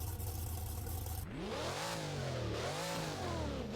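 A Roadster car engine in the driving game Driving Empire revs up, its pitch rising and falling in a couple of loud, swooping surges, without any talk.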